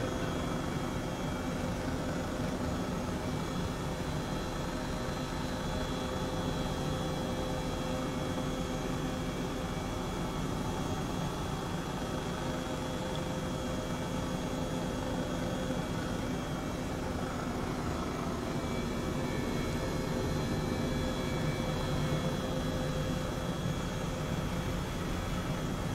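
Airbus H135 helicopter in flight over Augsburg, Germany, heard as a steady, dense engine and rotor roar that stays loud and unchanging for the whole stretch, with no voices.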